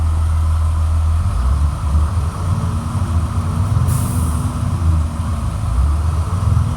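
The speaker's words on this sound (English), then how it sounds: "Motor sounds really good." A 2004 Blue Bird All American 72-passenger school bus engine runs loud and steady at close range, a deep rumbling drone rising slightly in a rev, with a brief hissing burst midway.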